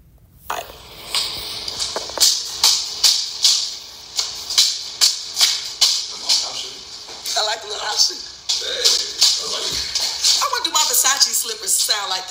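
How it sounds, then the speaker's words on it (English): Versace slippers shuffle across a floor in a steady run of soft scuffs, fairly close and loud, with a few louder scrapes near the end. "Slippers sound like this."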